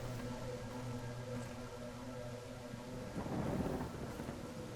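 Rain and rumbling thunder in a car horror video game, a low steady wash of rain with a deeper roll of thunder swelling near the end, fairly quiet and without talk.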